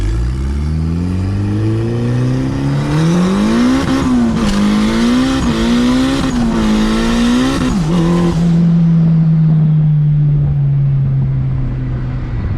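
A turbocharged Integra with a B20V engine accelerates hard while its clutch slips, making a loud, continuous rising engine roar. The revs climb, waver and then settle into a steady drone before the engine lets off.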